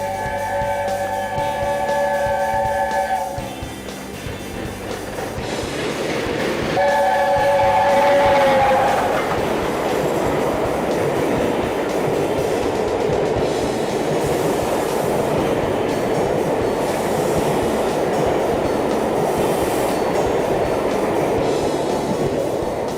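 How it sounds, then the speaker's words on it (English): A steam train passes close by with a heavy, continuous roar of rolling wagons and clickety-clack, opened by a sustained multi-tone whistle, loud throughout. "That's exactly how steam trains should be."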